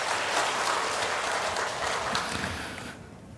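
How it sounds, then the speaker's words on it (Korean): A church congregation claps in welcome during a Sunday morning service, a thick, even wash of applause that holds steady before fading out near the end. "우리 박수로 잠깐 환영하고 격려하시죠"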